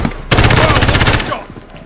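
Loud, rapid burst of automatic gunfire in Call of Duty: Modern Warfare lasting about a second, then a fading echo and tail.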